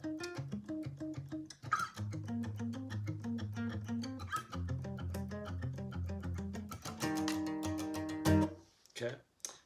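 An electric guitar strums the chords of a song in a steady up-and-down rhythm, with chord changes along the way and a brief stop at the end; no vocals.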